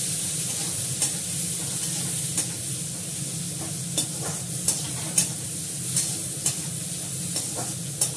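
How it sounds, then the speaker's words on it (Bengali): Chopped onions sizzle in hot oil with cumin and asafoetida in a pan, a steady broadband frying hiss broken by regular scraping stirs roughly every half second to second, close and alone with no talk. "পেঁয়াজটা একটু ভাজা ভাজা করবো, তারপর ওগুলো ছাড়বো।"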